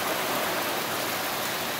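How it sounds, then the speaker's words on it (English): Heavy rain from an incoming tropical storm in Texas pours off a roof in a dense, steady hiss, loud and unbroken, with no voices. "You can see the rain in Texas pouring off the roof, tropical storm coming in."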